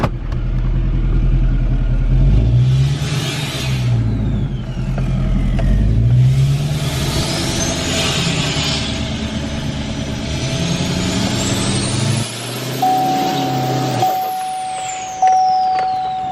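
A diesel L5P pickup truck engine drones steadily from inside the cab, rising and falling as it accelerates and shifts, with road rumble throughout.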